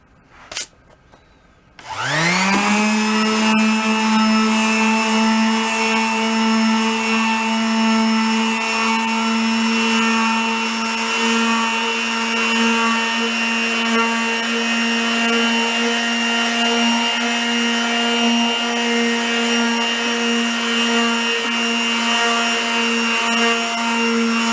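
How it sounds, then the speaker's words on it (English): A palm sander with 220-grit paper whirs up after a couple of soft knocks and runs steadily at high speed against a Gretsch round badge drum shell, a loud, even tonal hum held for over twenty seconds. "I've got some 220 paper, and we'll run it with our palm sander,"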